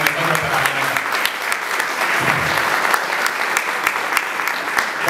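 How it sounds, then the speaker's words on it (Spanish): A crowd at a provincial gathering of employed and unemployed workers breaks into sustained, dense applause, loud and steady throughout with scattered claps standing out. "Así que un aplauso por ellos que han venido más temprano"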